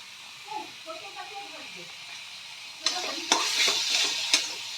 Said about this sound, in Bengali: এবার মশলাটা দিয়ে আমরা ভালো করে কষিয়ে নেব